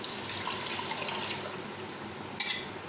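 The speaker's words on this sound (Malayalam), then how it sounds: "നമുക്ക് ഈ കലക്കി വെച്ചിരിക്കുന്ന സലൈൻ, അതായത് വിനേഗർ, ഷുഗർ, സോൾട്ട്, പിന്നെ ഈ കുടംപുളിയും കൂടി ഇട്ടത് ഇതിലേക്ക് ചേർത്ത് കൊടുക്കാം" A mixture of vinegar, sugar, salt and kudampuli is poured into fish pickle masala, a soft, continuous liquid trickle heard faintly up close.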